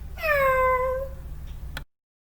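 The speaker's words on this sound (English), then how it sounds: "A little cute pussycat." A cat gives a single clear, drawn-out meow lasting about a second and a half, fairly close and loud, with a faint brief sound at the end and no talk.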